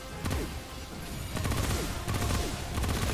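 Sustained burst of automatic weapon fire from a full magazine in the video game Remnant from the Ashes, continuous rapid shots at steady loudness for about three seconds with no talking.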